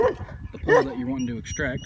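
A dog barks outdoors near a yard where a chain-link fence post is being pulled with a 2x4 lever and ratchet strap, a few short yips and barks mixed under someone talking.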